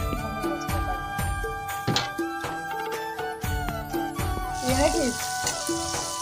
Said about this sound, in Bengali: তো এটা ভাজা ভাজা হোক